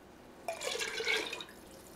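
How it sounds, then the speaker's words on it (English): Chicken broth is poured into a pot of water, a brief, bright splashing pour lasting about a second, close and fairly quiet, with no talk over it. "we're going to add 2 cups of chicken broth"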